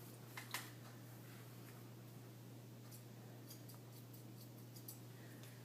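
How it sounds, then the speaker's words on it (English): Hair-cutting shears deep point cutting into hair produce faint, quiet snips and light clicks, a few scattered closes over steady low background hum with no talk. "Take my scissors, and when you deep point cut, be sure that you are pulling back on your shear as you close them."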